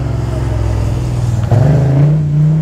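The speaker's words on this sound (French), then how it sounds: "Je laisse passer une moto dans ma rue." A motorcycle passes along a residential street, its engine droning low and steady before rising louder and closer midway through, then holding a revving tone.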